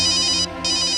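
A phone rings in a home setting with a bright electronic ringtone, loud and continuous with a brief dip partway through, and no voices.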